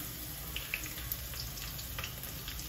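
Garlic fries in hot oil in a home kitchen pan, producing a soft, steady sizzle with scattered small pops, fairly quiet and unaccompanied by speech.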